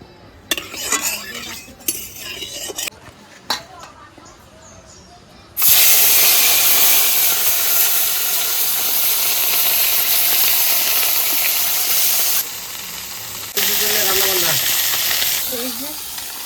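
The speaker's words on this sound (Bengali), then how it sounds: "এবার এই চেলা মাছটা ভাজার জন্য আমি তেল দিয়ে দেবো।" Chela fish from the Ajay river frying in hot oil: a loud, steady hiss and sizzle that starts abruptly and runs on, briefly dropping and returning, after a stretch of quieter kitchen clatter and faint talk.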